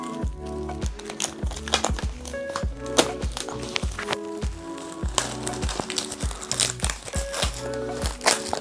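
Apple M1 MacBook Pro 13-inch packaging being opened, with repeated crinkling and crushing of wrapping and box material in close, busy bursts throughout, no talk.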